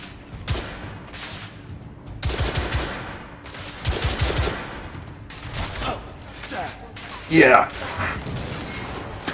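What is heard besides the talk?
gunfire and grenade explosion in The Order: 1886 video game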